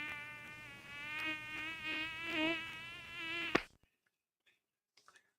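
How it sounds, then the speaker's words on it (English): Swarming mosquitoes in the Oregon Trail video game, a loud, continuous high-pitched insect whine with wavering pitch for about three and a half seconds, cut off abruptly by a sharp click and followed by near silence with a few faint ticks. "Let's rest here where the mosquitoes are swarming."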